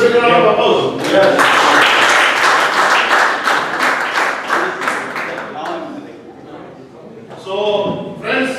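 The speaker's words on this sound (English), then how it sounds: "So I think you deserve a big round of applause." Audience at a Toastmasters meeting breaks into a round of clapping that swells, then thins and fades out, with voices speaking before and after.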